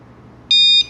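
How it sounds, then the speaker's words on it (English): A single loud electronic beep from a KEYE security alarm pairing with a remote, sharp and high-pitched, lasting about a third of a second over a faint background hum. "When you hear a beep, press this one."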